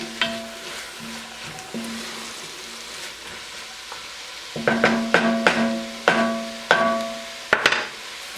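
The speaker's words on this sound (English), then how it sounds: "we're just going to stir all this in" Kale and spinach wilting in olive oil in a pan, stirred with a utensil: soft sizzle underneath, then a run of sharp scraping, clattering strokes against the pan in quick uneven rhythm, close and fairly loud.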